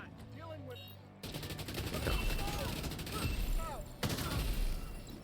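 Gunfire in The Division 2, a dense burst of rapid shots running through most of the stretch with loud cracks near the start and again later, under music and game effects; a voice talks over it briefly.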